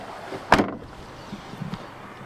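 The boot lid of a Mitsubishi car opening with a single sharp, close clunk of the latch, followed by a short rush of movement and faint rustling.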